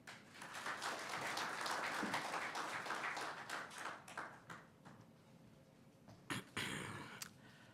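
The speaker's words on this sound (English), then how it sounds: "Please, a big round of applause for him." Audience at a finance forum plenary session applauding, a sustained wash of clapping that gradually thins, with a few louder isolated claps near the end.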